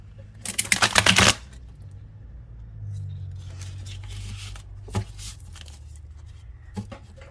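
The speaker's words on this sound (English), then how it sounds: "And then I'm going to take 3 cards from the middle." Tarot cards from a rainbow-edged deck being handled and drawn from the middle, with a loud burst of rapid riffling and sliding followed by quieter card rubbing and a couple of soft taps.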